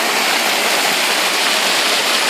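Water rushing and pouring out steadily at a fishing spot, a loud, close, continuous broadband splashing roar with no talk.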